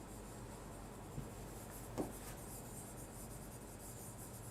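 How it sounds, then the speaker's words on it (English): Pen on paper, a faint, steady scratchy rustle of writing that continues throughout with a couple of small taps, heard up close with no voices. "So I will write male and I will write female."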